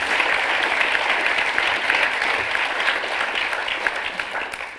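Sustained applause from an audience at an IETM plenary session, a dense, even clapping that holds steady for several seconds before slowly tapering off.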